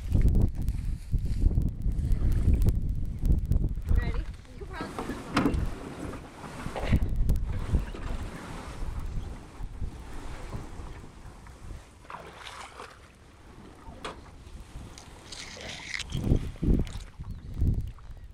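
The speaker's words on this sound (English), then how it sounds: "The wind's in your favor, at least." Wind gusting across an open coastal salt marsh, buffeting the microphone in a loud, rumbling roar that rises and falls in waves, with occasional louder gusts and no talk.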